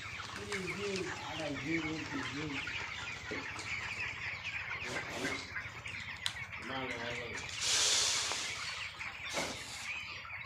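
Broiler chickens in a poultry farm shed cluck and chatter in repeated bursts close by, with people talking over the birds throughout.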